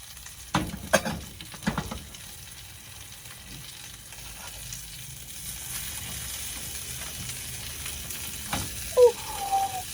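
Butter melting and frying in a hot cast iron frying pan, a soft steady sizzle with a few louder stirring clatters near the start and end, heard close up with no talk.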